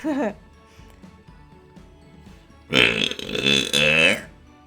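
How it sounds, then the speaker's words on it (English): Two loud, drawn-out burps come one after the other near the end, following a stretch of quiet room tone and a brief voiced sound at the start. "Enjoy my burps, everyone."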